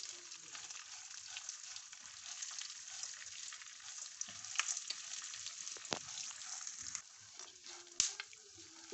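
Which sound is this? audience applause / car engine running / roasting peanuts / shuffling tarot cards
roasting peanuts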